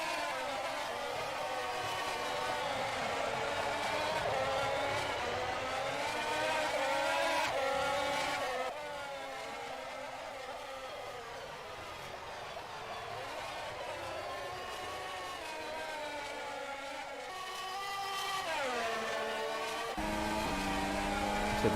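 Race cars in an rFactor 2 Formula 1 2021 Bahrain Grand Prix sim race roar steadily at high revs, engine notes rising and falling as cars pass and enter the pit lane, with commentary running over the top.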